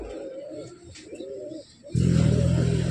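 A young pigeon at a home loft coos in soft, throaty rolls, close up, with a louder burst of cooing near the end and no talking.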